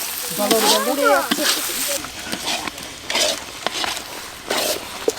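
Water goes into a hot pan of sizzling food at a family picnic cook-up, bringing a burst of hissing and frying crackle with stirring clatter while people talk nearby.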